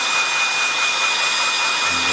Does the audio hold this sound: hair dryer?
yes